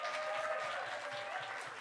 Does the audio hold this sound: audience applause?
yes